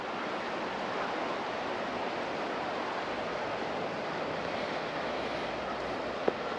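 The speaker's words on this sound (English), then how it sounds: "Listen to that water." Steady, broadband rush of river rapids heard alongside a papermill trail, a constant mid-level roar of churning water with no speech and one brief click near the end.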